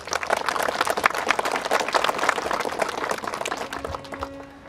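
Applause from guests at a civil wedding ceremony, a dense, steady patter of many hands clapping close by for several seconds before thinning out, with a faint sustained tone near the end.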